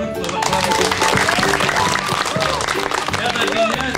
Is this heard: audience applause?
yes